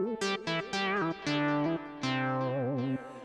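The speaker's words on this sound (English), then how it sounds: "go to the Unshushable Cocteau down here and look for Basic Boogie Bass 2 in the presets" Tyrell 64 synthesizer bass on the Basic Boogie Bass 2 preset, a short funky line of plucky, rounded notes with pitch wobble from the modulation wheel, close and clear with no talk.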